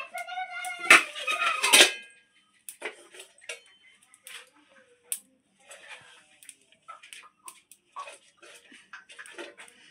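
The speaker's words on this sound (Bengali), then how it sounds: "কড়াইটা বসিয়ে দিয়েছি, কড়াইটা ভালো করে গরমও করে নিয়েছি, একটা স্ট্যান্ড দিয়েছি, তার উপর এবার আমি থালাটাকে দিয়ে দেবো।" A metal plate is set onto a stand inside a heated wok for mango bread, giving a loud clattering burst of metal scraping at first. Lighter scattered clinks and ticks follow, then quiet gaps.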